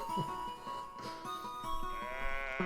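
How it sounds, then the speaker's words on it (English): Sheep bleat repeatedly in the Little Town Hero video game, several wavering baas in quick succession over a layer of game music and ambience, moderately loud rather than remote. "I think I heard sheep baaing from far away"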